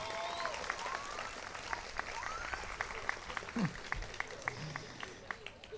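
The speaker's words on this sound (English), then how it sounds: "Yeah, go ahead and clap." A crowd at a high school graduation ceremony applauds steadily, many hands clapping at once, heard from some distance at low volume.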